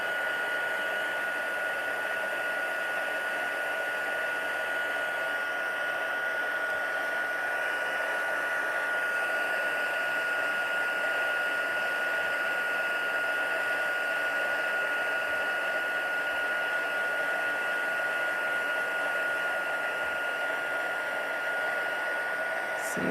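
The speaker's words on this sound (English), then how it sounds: "So you want to heat it till it's nice and shiny, no longer dull." A heat tool blows hot air to melt embossing powder until it turns glossy, producing a continuous, even whooshing roar with a faint steady whine, loud and close, uninterrupted for the whole stretch without speech.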